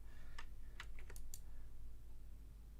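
A few quick keystrokes on a computer keyboard, soft and close, a short irregular burst of clicks in a quiet room.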